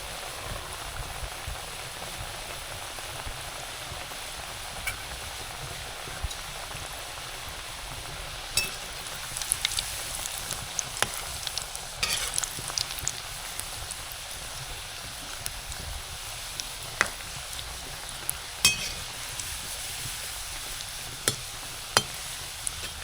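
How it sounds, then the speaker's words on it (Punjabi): Shakarpara pieces fry in hot oil, a continuous close sizzle and bubbling hiss with occasional small pops and stirring clicks, no voices. "ਆਪਾਂ ਅੱਧੇ ਪਾਵਾਂਗੇ ਅੱਧੇ ਬਾਅਦ ਚ ਤਲਾਂਗੇ"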